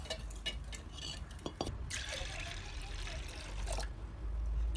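Fresh water is poured onto washed chana dal in a pot for puran poli. A soft splashing pour swells in the middle, then eases into a quiet trickle.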